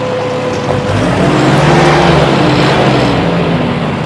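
A 1964 Ford 4000 gas farm tractor with 62 horsepower runs in reverse gear, a loud close steady engine drone with a low rumbling tone and slight swells in pitch, no talk.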